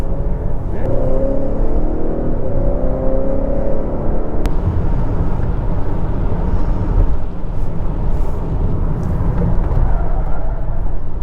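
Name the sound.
2022 Honda Accord Sport 2.0T accelerating while driven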